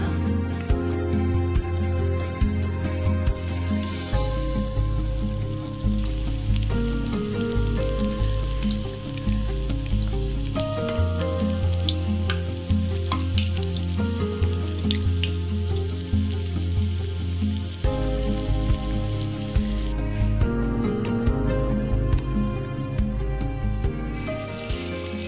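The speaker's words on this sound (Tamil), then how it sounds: "ஒவ்வொரு வாழைக்காயாக எடுத்து மாவில் முக்கிட்டு அப்படியே எண்ணெயில் போட்டு எடுத்துடலாம்" Batter-dipped green banana bajji fry in hot oil, a continuous bubbling sizzle heard close up, with soft background music throughout.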